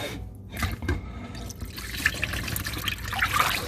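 Water drains off rinsed rice, a short run of splashing and dribbling with uneven pulses and a few bright drips, close by and heard alone.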